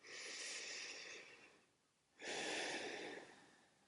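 A yoga instructor breathes in and out audibly, two soft breathy exhalations separated by a quiet pause, close and faint with no talking.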